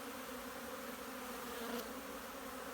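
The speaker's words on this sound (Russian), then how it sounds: "Да. Летит пчела. Красиво. Гудит пасека." Honeybees in flight around the hives of an apiary in spring make a steady, dense buzzing hum, a continuous close drone with no voices.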